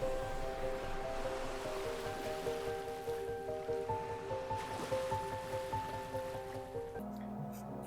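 Lake waves at night at Satrenga Lake in Chhattisgarh, a steady wash of water with soft repeated lapping and surging, moderately close, with faint tonal hum in the background.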